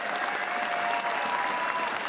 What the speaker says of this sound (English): Please give a round of applause for tom60229 from Taiwan.